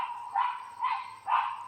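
Chihuahua barking in a neighborhood full of dogs, three sharp yaps at a moderate distance spaced about half a second apart.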